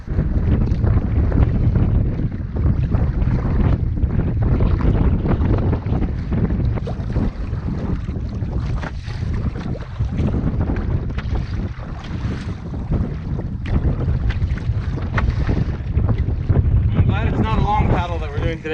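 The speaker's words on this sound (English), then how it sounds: "this wind is just not giving up" Steady, constant wind roars across Booth Lake in Algonquin near a kayak portage, a broad continuous rush buffeting the microphone for the whole stretch with no break.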